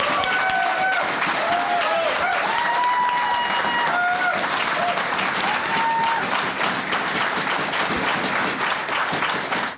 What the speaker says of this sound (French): Le ministre Blaney mérite une main d'applaudissement pour son travail formidable dans ce dossier.